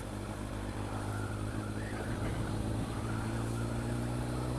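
A Kawasaki GPZ motorcycle engine drones steadily and fairly loudly on a highland road, a continuous mid-pitched rumble with slight swells in revs.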